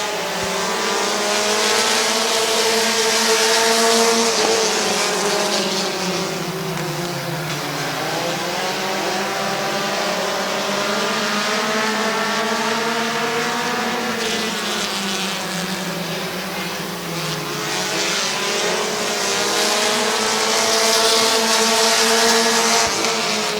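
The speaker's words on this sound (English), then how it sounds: "Here comes McDonald trying to get back to the inside of Salinger for second" Race cars roaring around the oval at Midvale Speedway, loud engines rising and falling in pitch as they pass near and then fade, with a continuous racing drone throughout.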